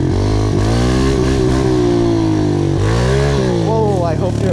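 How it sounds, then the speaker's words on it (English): A pit bike motorcycle engine revs loud and close, pitch climbing and dipping in repeated throttle blips, with a rising rev at the end. "Back on the pit bike."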